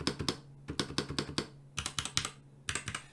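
Typing on a Genesis Thor 660 60% RGB mechanical keyboard with linear switches: close, quiet bursts of rapid keystrokes with brief pauses between runs, with no voice.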